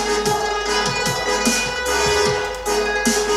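A trap music track plays back during mixing, with a constant deep sub-bass, regular percussive hits and dense bright hi-hat texture at a steady loud level.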